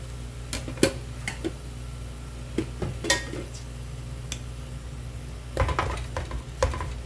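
Bean sprouts being mixed with chili powder in a pan off the heat, with scattered clinks and scrapes of a utensil against the pan over a faint low background, no talking.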